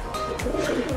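A pigeon coos softly a few times in low, throaty bursts over a steady background hum.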